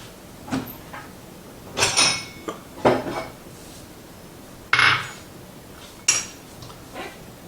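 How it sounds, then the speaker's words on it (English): Dishes clatter in a home kitchen as a bowl is taken out, with several separate sharp clinks and knocks of crockery and a cupboard bumping, spaced irregularly and heard close with no talking. "Let me get a bowl for the salsa blend."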